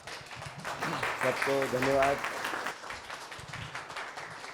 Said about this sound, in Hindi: हम चाहते हैं सब लोग जीतू भाई का ताली बजा के स्वागत करें